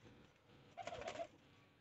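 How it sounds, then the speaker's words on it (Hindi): Pigeons cooing close by, a soft rounded coo swelling briefly in the middle of a quiet outdoor background. "ये कुछ कबूतर वगैरह हैं"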